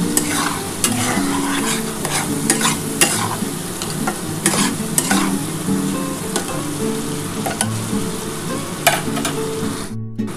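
Spice paste for a potato and fish curry with mustard oil and chili is stirred and sautéed in oil in a pan, with steady sizzling and repeated scraping strokes of a spatula, close and continuous, no one speaking.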